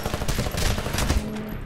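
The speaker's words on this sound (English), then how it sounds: "That's a pilot shooting at me, I think." Enemy pilot gunfire in the Titanfall campaign, heard as a dense, loud burst of rapid automatic shots rattling continuously for under two seconds amid busy game-battle noise.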